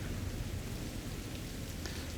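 Steady rain in the video game Cyberpunk 2077 hisses as a dense, even wash of noise, soft and continuous with no talk over it.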